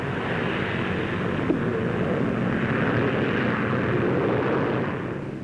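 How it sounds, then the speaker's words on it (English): A Bristol Britannia airliner fitted with new Proteus III turboprop engines passes at the 1953 Farnborough Air Show, a steady, broad engine roar that swells slightly and then eases near the end. "The Britannia itself is now fitted with the new Proteus III engines."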